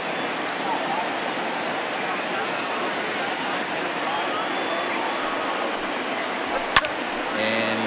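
Small but vocal crowd at a Philadelphia Phillies versus Miami Marlins baseball game rising to its feet, a steady wash of cheering and chatter with one sharp crack near the end.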